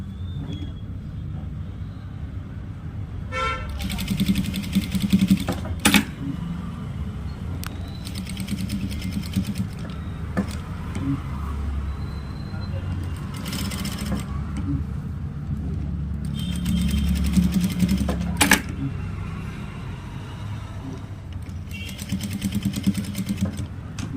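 A sewing machine stitches hooks onto fabric in several short, close runs, each a busy mechanical whir. A low rumble fills the pauses between runs, and no one speaks.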